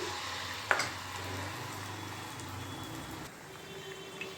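Malpua batter frying in a mix of ghee and oil: a faint, steady sizzle and bubbling goes on throughout, with a small clink near the start.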